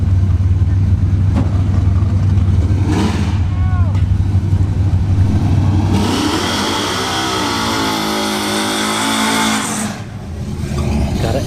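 Chevrolet S-10 drag racing engine at a test-and-tune session on a dragstrip, revving loud and rough with a steady roar that climbs and settles, while people talk nearby.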